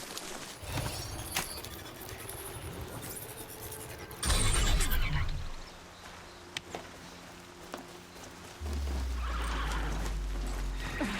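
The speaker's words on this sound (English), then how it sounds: "And we'll get a horse out now." In the video game Horizon Zero Dawn, a horse whinnies loudly, followed by hooves clip-clopping and scattered clicks, with a low rumble building near the end.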